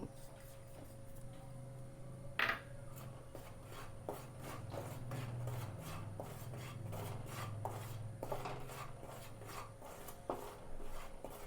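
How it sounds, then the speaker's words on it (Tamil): Rice flour dry-roasts over a low flame while a spoon scrapes and stirs it around the pan, producing soft repeated rubbing and scraping strokes close by, with a low background hum and no talking. "ரொம்ப சிம்மில் வச்சு லைட்டாக வறுத்துக்கோங்க"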